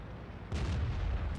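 A tank gun fires a shell in World of Tanks, a single deep booming report that cuts in sharply over a low rumbling background and lingers briefly.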